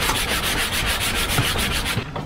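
Sandpaper is rubbed by hand over varnished wooden table pieces in steady back-and-forth strokes, close and loud, with continuous rhythmic scratching and no talking.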